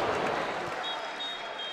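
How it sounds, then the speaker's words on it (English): Applause from the football crowd at Molineux stadium at the end of the match: a broad, steady wash of clapping, loud and continuous throughout, with no voices standing out. "applause all around Molineux"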